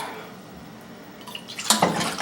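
Tap water running into a measuring cup for a chicken bouillon sauce, a faint trickle that swells near the end into a louder splashing gush.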